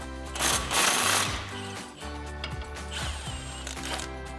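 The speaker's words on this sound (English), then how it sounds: "I'm going to be using a 15mm socket, a socket extension, and an impact." An impact wrench with a 15mm socket and extension spins off a sway bar bolt on a RAM 1500, two loud rattling bursts of mechanical hammering up close, with quieter clanking between them and no talk.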